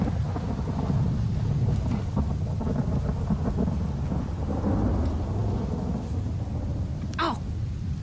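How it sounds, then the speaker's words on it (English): Thunderstorm in the Red Dead Redemption video game: a continuous wash of heavy rain with low rolling thunder rumbling throughout, and a sharp crackle near the end, steady and fairly loud with no one talking. "Abigail states that because of the storm, Uncle has probably taken shelter in a dry place nearby"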